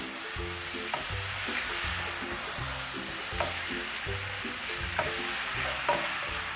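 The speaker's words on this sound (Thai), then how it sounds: "เราก็จะผัดคลุกเคล้านะคะพริกแดงจินดาแล้วก็กระเทียมนะคะให้หอมเลยค่ะ" Chopped red jinda chilies and garlic stir-fry in a pan for Thai salt-and-chili chicken wings, giving a continuous close sizzle with periodic spatula scrapes and taps, steady and moderately loud, with no speech.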